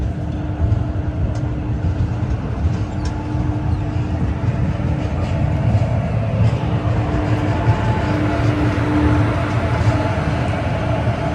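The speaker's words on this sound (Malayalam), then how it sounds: "മൈസൂരു റെയിൽവേ സ്റ്റേഷനിൽ നിന്ന് 496 കിലോമീറ്റർ യാത്ര ചെയ്തിപ്പിതാ പുരട്ജി Thalaivar doctor MG Ramachandran central railway സ്റ്റേഷനിലേക്ക് നമ്മുടെ ട്രെയിൻ എത്തിയിരിക്കുകയാണ്" The Kaveri Express from Mysuru rolling into MGR Chennai Central station, a continuous heavy rail rumble with a faint steady whine and occasional clicks, heard from inside the coach.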